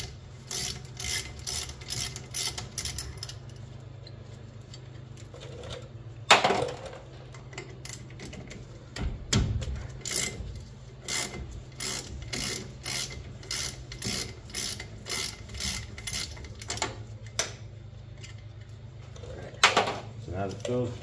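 Wheel cylinder bolts being worked loose with a ratchet on a 1959 GMC truck brake, giving repeated close clicking and rasping strokes in a steady rhythm over a low background hum, with a few sharper knocks.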